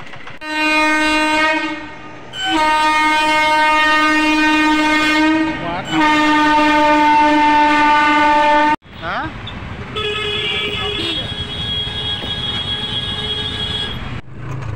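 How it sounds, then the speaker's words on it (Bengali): A train approaches a railway level crossing with its gates down, sounding a long, loud, multi-tone horn in repeated blasts before the rumble and clatter of the passing train take over, with voices nearby. "তারপর ট্রেন এলো।"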